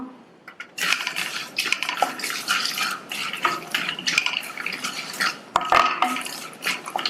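Snack ingredients roast in a pan over a low flame, with scattered crackles, scrapes and clinks of a spoon stirring against the metal, close and irregular.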